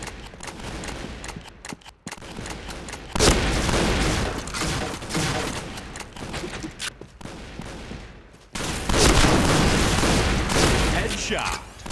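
Shotgun blasts ring out in the video game Point Blank: dense bursts of loud gunfire in several clusters separated by brief lulls, with explosive booms and game sound effects.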